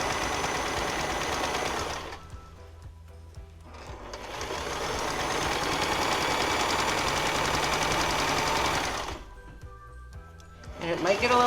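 A sewing machine stitches along the edge of a quilt, its close whirring motor running in two long bursts with quieter pauses while someone talks between them.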